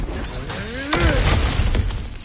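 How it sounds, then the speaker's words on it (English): Objects being smashed apart in God of War Ragnarok, with a crashing, shattering burst of breaking debris near the one-second mark. A tonal sweep and game ambience sit under it. "back to smashing through things for fun and profit"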